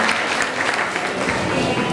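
A crowd claps loudly and continuously at a school Independence Day event, dense applause filling the whole moment without a break.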